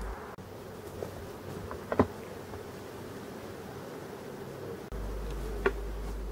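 Honeybees buzzing around hive frames during a honey harvest in Brittany, a steady close insect drone with a few louder passes, no talk.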